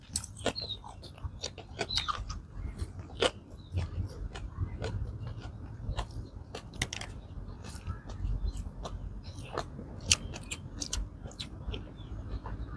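Vegetables are sliced outdoors while cooking dinengdeng with mushrooms, with onion also being prepared; steady close crisp cutting clicks repeat throughout over a low outdoor background, with no talking.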